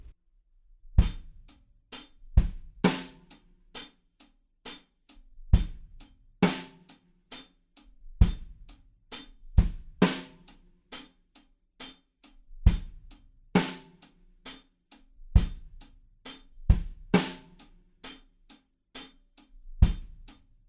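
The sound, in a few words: drum groove, chorus of a song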